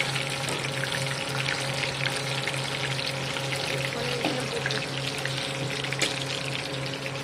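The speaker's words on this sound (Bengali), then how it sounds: "দেখুন এখানে কুপ্তা ভাজা হচ্ছে" Kofta, also called tikiya, fry in oil in a pan with a steady, close sizzle and bubbling hiss, alongside a low constant hum and an occasional faint clink.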